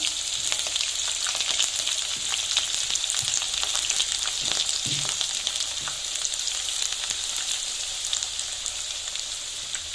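Raw jackfruit vada fry in hot oil, giving a steady close sizzle with fine crackling bubbles and a few soft stirring bumps, with no talking.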